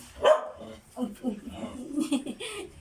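A pet dog gives a short bark followed by softer yips and whimpers close by, while a person talks over it.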